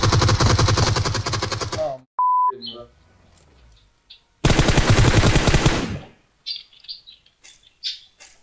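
Rapid automatic gunfire in the mobile battle-royale game PUBG Mobile, two loud, dense bursts of close shots, separated by a short electronic beep and scattered quieter game sounds, with brief clipped pops trailing after.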